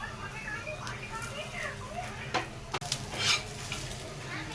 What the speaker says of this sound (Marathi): मसाला छान भाजतोय